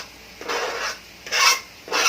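Boiled potato with chopped Eden cheese is mashed for a pork shepherd's pie, three close, rasping scrapes of a masher in a pot, each about half a second, with brief pauses between.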